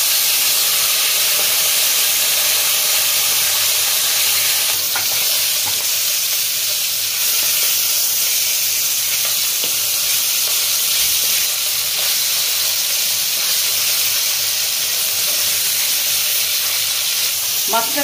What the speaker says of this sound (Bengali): এরপরে আমি মাছটা সঙ্গে সঙ্গে নেড়ে দেবো যাতে মাছটা না বেঁচে যায়